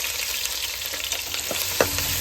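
Thinly sliced onions with curry leaves sizzle in hot oil in a pan while preparing crab curry, a steady close frying hiss with a brief stir near the end.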